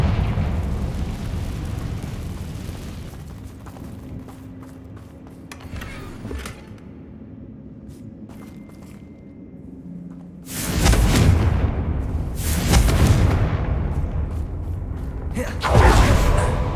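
Booming fiery blasts from the Confringo spell in Hogwarts Legacy, a loud rumbling eruption fading out early, then two heavy close explosions back to back and another burst at the end.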